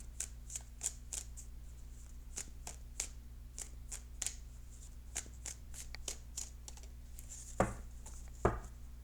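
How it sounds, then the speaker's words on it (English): Tarot cards shuffled and cut by hand, heard as a quiet, steady run of crisp riffles and soft slaps, with two sharper taps near the end as the deck is squared. "I will cut the cards and begin the reading"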